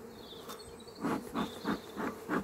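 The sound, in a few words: bees buzzing around an open beehive during inspection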